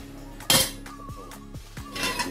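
A metal pan is fetched for grilling chicken, giving one sharp clang followed by a few lighter knocks and scrapes of cookware up close, with no voices.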